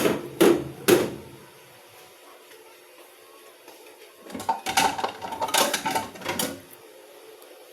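Metal cookware being washed: a cooking pot and pans clatter and clank close by, with two sharp knocks at the start, a quiet pause, then a busy run of scraping and banging, no talking.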